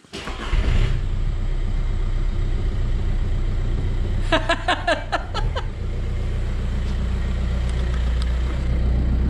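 A worn Volkswagen 1.9 TDI diesel engine idles close by with a steady low rumble, briefly interrupted by a burst of rapid metallic ticking and clatter midway.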